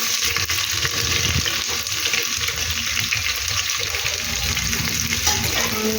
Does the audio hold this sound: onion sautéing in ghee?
yes